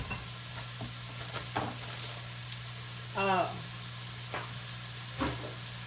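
A chuck roast with garlic cooks in a pot, giving a steady low sizzle with a constant hum beneath and a few soft clinks and brief scraping sounds.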